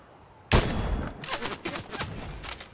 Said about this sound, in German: Ich brauche nur noch einen Schuss.